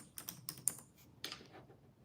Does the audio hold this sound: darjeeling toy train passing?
no